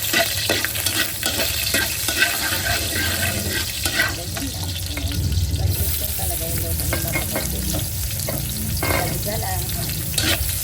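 Vegetables for menudo sauté and sizzle in a hot pan, a constant crackling fry with stirring and clattering throughout, and a voice speaks briefly over it.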